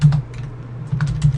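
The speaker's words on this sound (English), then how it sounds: "I'm typing in expenses." Quick bursts of clicking keys on a computer keyboard, close and crisp, in a brief flurry of typing.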